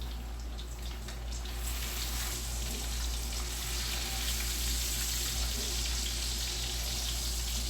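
Shrimp sizzling and frying in a pan of creamy dill sauce, a steady close hiss with light bubbling that runs throughout, with no talk.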